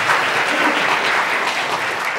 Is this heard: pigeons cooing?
no